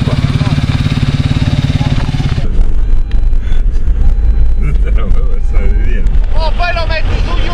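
Enduro motorcycle engine at a regional FMI enduro championship round in Sicily, loud close revving with a rapid pulsing drone, then a shift to rougher bursts amid wind buffeting and people talking over it.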